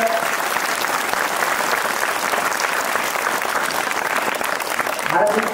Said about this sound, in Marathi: त्याबद्दल तुमचे एकदा जोरदार टाळ्या